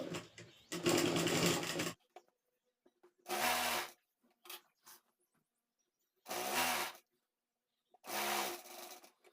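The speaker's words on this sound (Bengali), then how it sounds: "এই পাটটা আমি সেলাই করে নেব" Short bursts of a sewing machine stitching a salwar piece, four separate runs of a couple of seconds each with quiet gaps between, close and alone.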